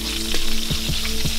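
A whole stick of butter sizzles steadily in a pan with parsley added, a close, continuous frying hiss broken by a few soft clicks and pops.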